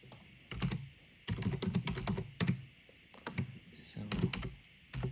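Fast clacking keystrokes on a computer keyboard while entering text during a Windows Fundamentals for Legacy PCs installation, coming in quick clustered bursts with short pauses between them, close and crisp.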